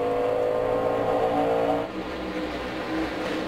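NASCAR Nationwide Series race cars roar past together at Gateway in 2010, a loud sustained engine blare that dips slightly as the pack moves on.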